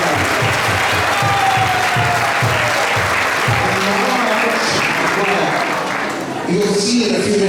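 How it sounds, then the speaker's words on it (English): Audience at a Krishna Janmashtami program giving Bhaktimarga Swami Maharaj a big round of applause, loud continuous clapping throughout, with a voice briefly heard underneath. "can we give a big round of applause for Maharaj?"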